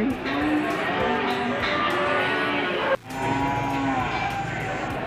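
Cattle moo loudly at the Grabag livestock market in Magelang, long drawn-out calls overlapping one after another, with a brief pause before another moo starts.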